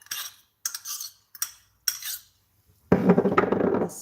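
A spoon scrapes and clinks in a bowl while mixing a ground meat and tofu patty mixture with shallot, in four short strokes followed by a louder, sustained stretch of mixing.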